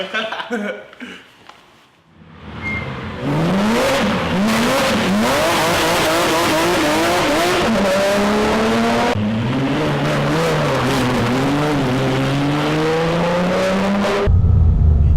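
A road-legal Porsche 987 Cayman S engine starts up, then accelerates hard through rising revs with gear changes, loud and close, holding a steady drone near the end.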